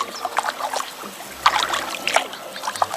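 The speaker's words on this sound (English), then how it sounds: "Nice easy paddle" Kayak paddle strokes dipping and splashing in a river while heading downstream with the current, rhythmic drips and splashes close by, moderately loud.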